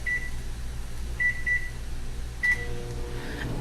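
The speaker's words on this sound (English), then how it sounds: "so there it is in the microwave" A microwave oven hums steadily while cooking spaghetti squash, with several short electronic beeps near the start and middle.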